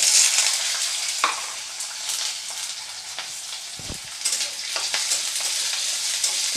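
Potatoes and beans hit hot oil after the spice tempering for Bengali sabudana khichuri, giving a steady close sizzle with scattered stirring scrapes and one low knock partway through.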